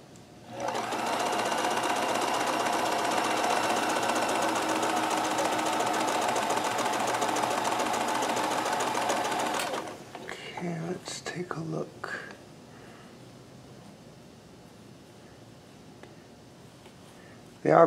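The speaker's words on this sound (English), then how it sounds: "We'll see if we get some nice sort of attractive chain stitch loops." A Kenmore 158.1914 sewing machine sews a chain stitch with a steady, fast mechanical whir for about ten seconds, then stops, followed by quieter handling noises and a faint voice.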